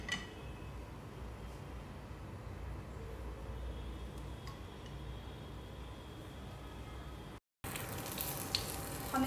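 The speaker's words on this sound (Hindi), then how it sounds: "चलिए हम इन्हें फ्राई कर लेते हैं" Crispy paneer bites fry in desi ghee with a steady, close sizzle and crackle that runs throughout, broken by a brief silent cut, with no talking.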